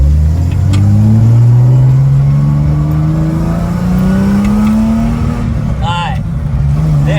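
A lowered Nissan Fairlady Z S30 engine revs up under acceleration, its note climbing steadily over several seconds and holding loud and near, in a car that tends to stall out around 4000 rpm.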